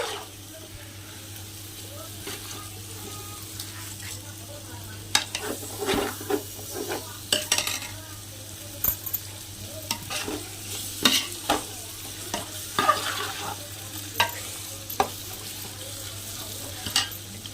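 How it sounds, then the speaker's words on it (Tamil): Tomatoes being stirred in a hot pan for homemade biryani, the spoon scraping and clattering in irregular bursts over a steady low sizzle, close by with no talking. "நான் தக்காளி சேர்த்தாச்சு போட்டு ஒரு கொஞ்சம் கிண்டி விட்டுட்டு"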